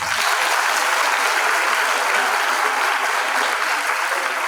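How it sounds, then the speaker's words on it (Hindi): Loud, dense hand clapping from an audience at an educational institute's anniversary celebration, a continuous even wash of applause with no pauses and no voices. "एक बार जोरदार ताली बजा दो।"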